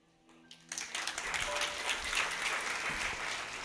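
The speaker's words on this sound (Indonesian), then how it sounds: "Saudara, tepuk tangan" Congregation applause during a church sermon swells in quickly and continues as dense, moderately loud clapping from a sizeable indoor crowd.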